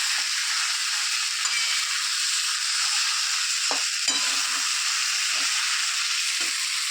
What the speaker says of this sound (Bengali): এগুলো তরকারি গরম করছি।